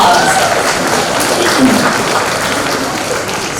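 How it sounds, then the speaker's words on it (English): An audience claps at a university orientation session, loud close applause running throughout with a murmur of voices mixed into it. "Round of applause."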